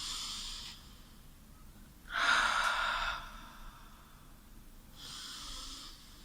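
Slow, deep breaths taken during a guided breathing exercise: a soft exhale, then a louder, longer breath a moment later and another softer one near the end, all close and quiet with no talking.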